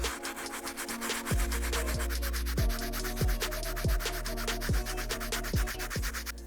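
A stiff bristle brush scrubs the grimy midsoles of dusty Air Jordan 1 sneakers. Close, dry, rasping strokes repeat in a steady back-and-forth rhythm, about one per second, with no voices.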